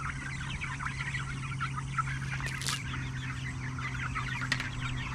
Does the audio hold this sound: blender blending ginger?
no